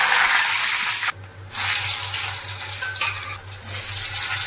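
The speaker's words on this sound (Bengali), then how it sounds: "আলুগুলো ভেজে নেব।" Boiled potatoes frying in hot oil in a wok, a loud, steady close-up sizzle that fills the whole clip, briefly dipping twice as if stirred, with no talking.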